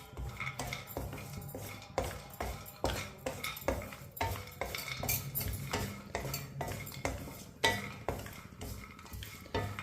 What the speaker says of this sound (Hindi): दो मिनट के लिए चम्मच चलाते हुए मैंने भून लिया है